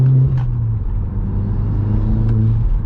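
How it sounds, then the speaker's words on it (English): An Audi S3 engine hums steadily at a low pitch while the car drives along at night, with a smooth, continuous drone and a slight rise in revs and no talking. "The car is running so much better now"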